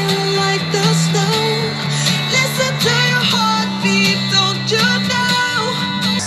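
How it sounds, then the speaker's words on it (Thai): Music with a steady beat and layered harmonic tones plays loudly and continuously from the built-in speaker of a BenQ GV30 portable wireless projector, with no talking over it. "อันนี้คือเสียงที่ออกมาจากลำโพงของเบนคิวเลยคร"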